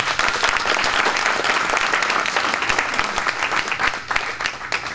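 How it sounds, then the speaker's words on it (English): A crowd at a ribbon-cutting ceremony for a culinary kitchen gives a loud, sustained round of dense applause that carries on evenly for several seconds before easing slightly. "for all that Zaman does and you do, Haji, another big round of applause"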